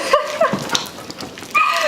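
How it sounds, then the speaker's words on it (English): Two dogs, Leo and Chester, yip and bark in short high bursts, with a few sharp barks and whiny yelps scattered irregularly and near, amid light room noise. "the other dog that is barking away is Chester"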